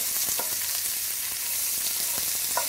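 Chilies and ginger frying in oil that has cooled slightly, for a spicy mixed vegetable bhaji, giving a steady close hiss of sizzling with a few faint soft clicks and no talking.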